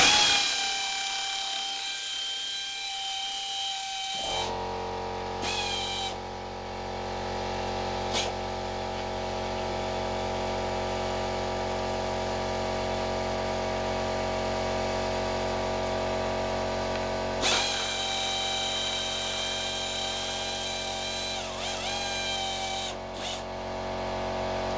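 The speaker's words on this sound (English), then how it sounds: "So this is the old compressor that's making" An old air compressor starts after a few seconds of near quiet and then runs continuously with a loud, steady mechanical hum and whine. Occasional brief clicks and knocks break the drone.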